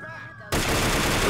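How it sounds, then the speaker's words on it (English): Gunfire in GTA IV with the LCPDFR police mod: after a quiet half-second with a faint tone, a loud, dense burst of shots erupts and holds steady to the end. "shots fired"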